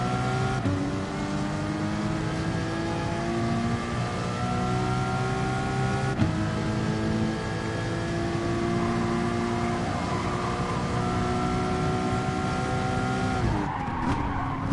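Race car engine revving hard in the Gran Turismo Sport video game during an FIA GT exhibition race, a loud, steady high-pitched drone with rising gear pulls, a sudden shift near the end and faint tyre squeal.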